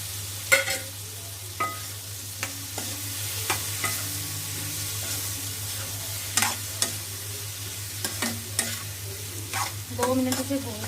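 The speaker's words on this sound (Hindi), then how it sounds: "अब मैं इसमें डाल दूँगी आलू जो कि उबले हुए रखे हैं।" Boiled potatoes fry in a pan with tomatoes, turmeric and spices, a soft sizzle under repeated scraping stirs and clinks of a spoon, with a steady hum beneath and no talk.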